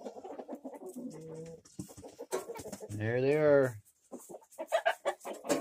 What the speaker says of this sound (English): Those are some pretty chickies there.